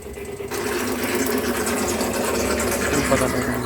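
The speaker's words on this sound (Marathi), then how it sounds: "बंद करतो मोटर" Motor pump running for drip irrigation on a farm, a steady close mechanical whirring drone that kicks in after half a second and continues unbroken, with faint voice in the background.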